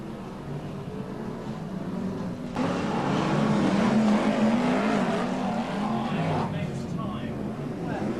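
BriSCA F1 stock cars race at Long Eaton, a loud roar of engines that swells and fades as cars pass, with a commentator talking over the noise throughout.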